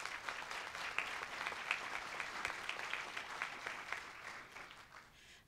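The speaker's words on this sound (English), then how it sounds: "Ed, another round of applause" Audience applause at a city State of the City address fills the room with dense, steady clapping that tapers off toward the end.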